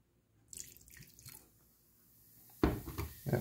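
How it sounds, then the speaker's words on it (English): Bragg's apple cider vinegar fizzes on cement with a soft, brief hiss, then a louder splash of liquid being poured lands close by near the end. "Yep, so that's fizzing it up again."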